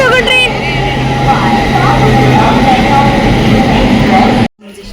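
A passenger train rolls steadily along on a rail journey, a continuous low rumble with rhythmic rattling that runs close and loud for several seconds before cutting off abruptly near the end; a voice speaks over it.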